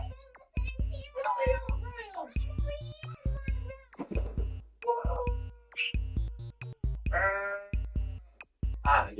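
Bleating goat-like screams from a video game, several loud cries mixed with chopped in-game voices and effects, the bleats rising and falling amid busy overlapping sound.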